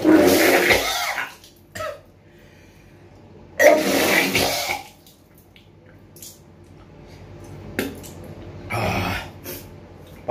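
Bursts of splashing, gushing water come in several separate spurts with quiet pauses between, close by, alongside wet retching noises, as a person expels water during a kunjal yoga cleanse.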